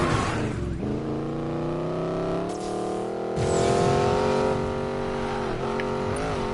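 A Regera supercar in Need for Speed Payback holds a loud, steady high-pitched engine drone at top speed, with shifting tones, a brief dip and a swelling roar as it races through traffic.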